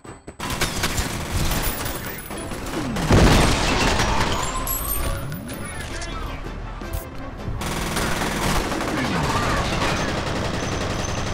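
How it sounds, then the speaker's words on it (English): Heavy bursts of rapid gunfire and a booming grenade blast in the shooter game F.E.A.R., loud and dense over several seconds with brief pauses, combat noise filling the scene. "Grenade."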